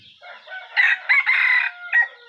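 A chicken clucks and then crows, close and loud in a quiet setting, giving a short rising call followed by several strong crowing bursts.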